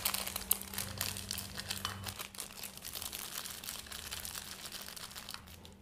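Plastic packaging around a block of tamarind crinkles and rustles as it is opened by hand in a kitchen, a steady close crackling with a brief low hum underneath.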